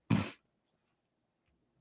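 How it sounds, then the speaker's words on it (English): A single sharp human sneeze bursts out close to the microphone, followed by near silence and a faint breath or rustle at the end. "I always have to sneeze as soon as I get on."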